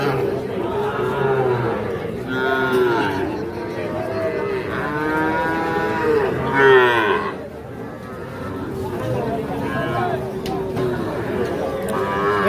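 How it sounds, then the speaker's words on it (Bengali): Young local-breed bulls and calves moo repeatedly at an Ambari cattle market, with several drawn-out calls near and far under a steady crowd murmur and people talking throughout. "ষাঁড় বাচ্চা, দেশাল জাতের"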